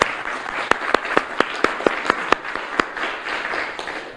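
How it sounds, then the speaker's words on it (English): Audience applause greets the first speaker at a policy presentation by an Assistant Attorney General, a steady wash of many hands clapping with a few sharp, closer claps standing out, lasting about four seconds without talk. "Elizabeth, can we have a round of applause for Elizabeth?"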